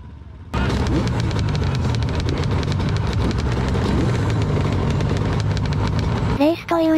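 A TM Racing 100MX mini dirt bike engine runs loud and steady with busy buzzing revs at a festival-style hard enduro race, a dense wall of engine noise that drops away briefly near the end.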